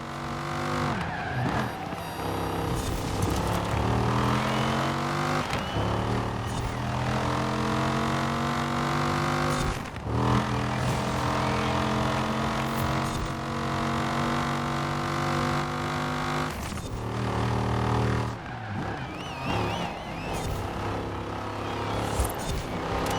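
Dodge Viper ACR racing in Forza Horizon 4: a loud, continuous engine roar climbs through the revs and drops sharply at each of several gear shifts, with tire noise underneath.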